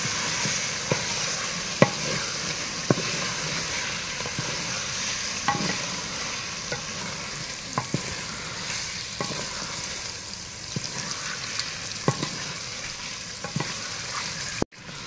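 Eggs cook in a sizzling spice masala, a steady crackling fry with regular scraping stirs of a spoon at a few-second rhythm, close and even, ending with a brief knock.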